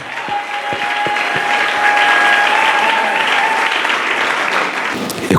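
A church congregation at a Sunday service applauds in a sustained, dense clapping that holds steady for about five seconds, with a faint voice and a tone carrying underneath.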